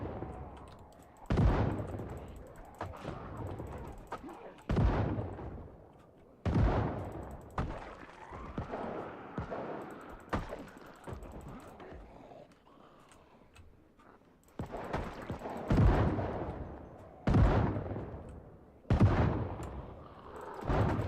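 Shotgun blasts ring out in Project Zomboid, a zombie survival game, as a string of loud, sharp booms several seconds apart, each followed by a quick decay, with quieter gaps between the shots.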